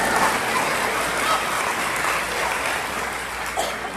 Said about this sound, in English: You can clap, it's okay, I'm black.